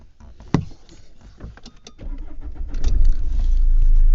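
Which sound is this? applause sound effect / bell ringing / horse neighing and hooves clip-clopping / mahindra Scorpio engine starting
mahindra Scorpio engine starting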